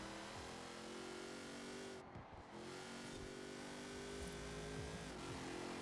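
Top Gear Track-Tor race car in Forza Horizon 4 holding a high gear, its engine droning steadily and loud throughout with a brief dip midway and faint tyre noise, no talk.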